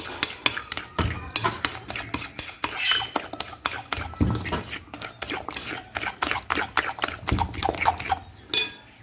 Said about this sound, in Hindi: अच्छे तरीके से हम चीनी को बीट करेंगे ताकि चीनी का भी अच्छे तरीके से इसका फोमी टेक्सचर आ जाए।